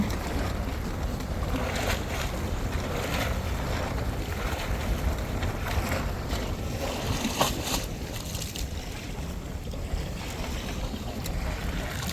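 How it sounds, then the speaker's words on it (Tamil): Prawns being rinsed in sea water on a shore after traditional push-net catching, the sloshing lost inside steady wind and surf that stay loud and continuous throughout. "இப்போ நம்ம கடல் தண்ணியில் ராக நல்லா அலசுகிறோம்"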